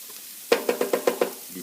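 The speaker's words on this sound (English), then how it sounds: "Just to soften these onions and jalapenos up a little bit before I drop this fresh, really lean ground beef in" Onions and jalapenos cooking in a pan give a soft sizzle under six quick, evenly spaced knocks of a utensil against the pan.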